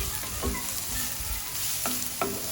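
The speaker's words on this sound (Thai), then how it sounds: "ใส่ลงไปแล้วก็ผัดผัด ผัดจนหัวหอมเขาสุกนะคะ" Onions stir-fry in a pan alongside green chilli and ginger as the start of an okra curry, with a continuous loud sizzle and a few scraping strokes of a utensil against the pan.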